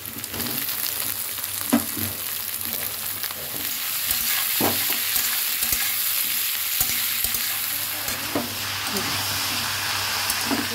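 Lightly boiled jackfruit and potato go into a hot pan and fry with a steady, loud sizzle, joined by occasional scraping and knocking as the pieces are stirred, close up, without talk.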